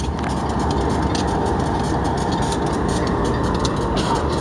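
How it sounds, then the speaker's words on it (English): A C44AC diesel locomotive idles close by, a loud, steady low rumble and drone that holds constant throughout with no voices or breaks. "This locomotive right here is a C44AC."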